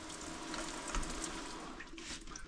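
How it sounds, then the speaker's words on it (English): Water runs steadily from an off-grid shower fed by PEX lines with copper compression rings, a continuous close hiss of flow after the valve opens, with no voice over it. "if I open the valve, hopefully you can see that I do have water"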